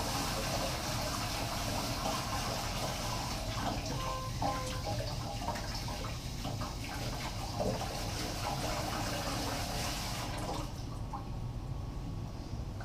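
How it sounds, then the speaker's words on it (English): Water runs steadily over aquarium carbon filter media as it is rinsed, a continuous broadband splashing and trickling flow that stays fairly close and even, then thins out near the end. "maybe I should have rinsed it over the sink"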